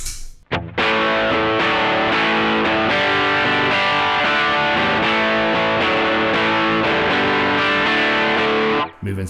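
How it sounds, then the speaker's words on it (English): An electric guitar played through a Trex Dual Drive overdrive and distortion pedal gives a loud, thick distorted chord passage with steady strummed rhythm, sustained for several seconds before cutting off, with no talking. "And then we come to the part where we want distortion in the song."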